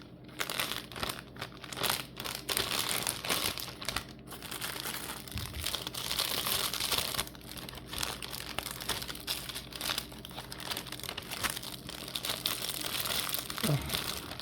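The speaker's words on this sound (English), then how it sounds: "I'm going to take this one and I'm going to put this one in a Ziploc" A frosted pumpkin pie Pop-Tart is slipped into a plastic Ziploc bag, with close, continuous crinkling and rustling of the plastic over many seconds and a brief low thump near the end.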